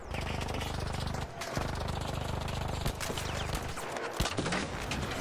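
Gunfire in the video game Arc Raiders rattles in rapid automatic bursts while shooting at an ARC machine's leg, loud and continuous with brief pauses and impact clanks near the end.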